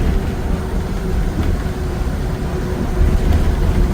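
A Via Rail passenger train pulls into Dorval station with a steady, loud rumble and faint rattling heard from close by.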